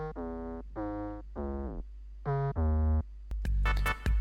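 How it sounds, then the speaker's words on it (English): Deep 808 bass from an FL Studio dirty moombahton remix intro, playing several sustained booming notes in a rhythmic pattern, followed by sharp percussive hits near the end, with no voices. "This is the 808 that I use for the intro."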